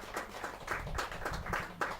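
Rhythmic clapping from a few people at a poetry gathering, evenly spaced claps about every quarter second, fairly soft and close with a low hum behind.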